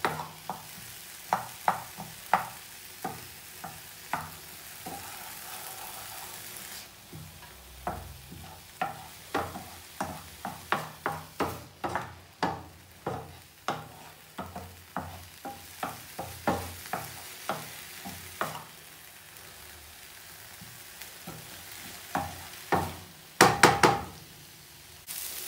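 Chopped onion sizzles in a frying pan for a Slimming World bolognese while a utensil stirs it, giving a steady run of sharp knocks and scrapes against the pan over a soft frying hiss.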